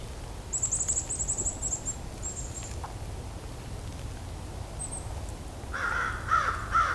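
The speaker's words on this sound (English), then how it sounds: "Crows here are pretty talkative today." A few harsh caws near the end rise over a steady outdoor hiss, with thin high chirps from smaller birds earlier on.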